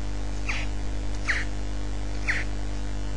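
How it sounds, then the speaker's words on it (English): Gun-firing sound effects from a simple Blitz Basic computer game: three short, chirpy electronic blips spaced about a second apart over a steady low hum. "you should be able to hear there that I'm getting sound effects when I fire my gun"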